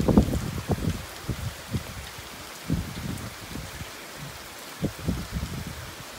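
Rain in a dry summer setting near a taro patch, shifting from light drops toward a heavier downpour, with gusty wind buffeting in uneven low thumps.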